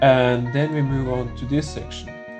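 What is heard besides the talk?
No everyday noise stands out behind the speech.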